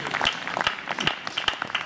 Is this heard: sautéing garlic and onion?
no